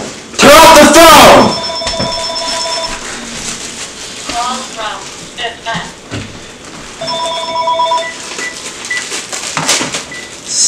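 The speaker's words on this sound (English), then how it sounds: "Turn off the phone!" A telephone rings in a kitchen with repeated electronic ring tones, loud at the start and then fainter, coming in several separate bouts, with people talking and shouting between and over the rings.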